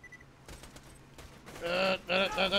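A gun in Borderlands 2 fires: faint scattered pops at first, then loud, rapid bursts of shots near the end.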